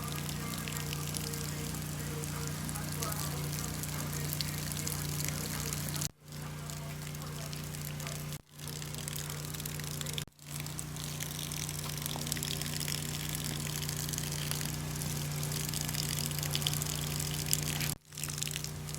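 Shower water spraying steadily on an Eclectus parrot during bath time, a continuous hissing spray with a low pump-like hum underneath and a few brief cut-offs where the flow stops.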